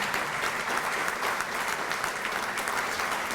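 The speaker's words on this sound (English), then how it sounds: "could we again give them a round of applause?" Steady applause from an audience at an opening ceremony, a continuous wash of many hands clapping at a moderate level throughout.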